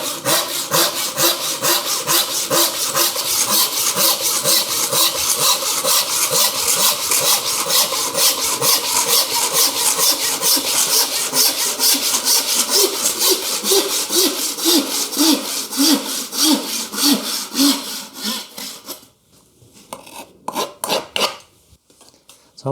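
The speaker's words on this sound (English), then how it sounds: "do my crosscuts with a panel saw by hand" A hand panel saw crosscuts wood in fast, steady back-and-forth strokes, loud and close, slowing to a few final strokes before stopping.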